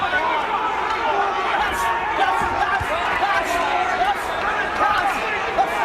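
Boxing crowd in Belfast at the Martin Lindsay versus John Simpson fight, loud and close, shouting and urging on their fighter in a constant roar with sharp individual yells rising out of it.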